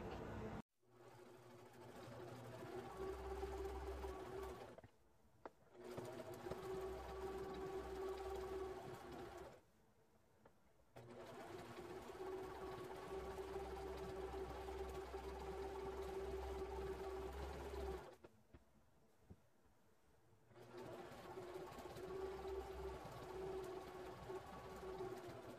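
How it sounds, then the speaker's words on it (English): A sewing machine stitches up the cut side of a sweater being made into a heating pad cover, running in several steady whirring bursts separated by short pauses, close and moderately loud. "So I'm just going to sew the one side that I cut."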